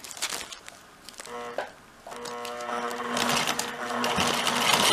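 Domestic sewing machine embroidering a granito stitch as filling, tiny close-set circles, running in a steady motorized hum with short pauses and restarts, close and fairly loud, no talking.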